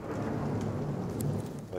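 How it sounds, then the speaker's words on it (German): Steady rain and low rolling thunder fill a scene outside in the Silent Hill 2 video game, forming a dense, continuous wash with brief brighter spatters and no talking. "Draußen regnet es immer noch."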